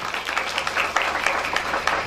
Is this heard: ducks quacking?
no